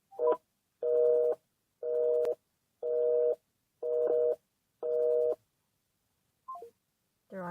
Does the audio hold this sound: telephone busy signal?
yes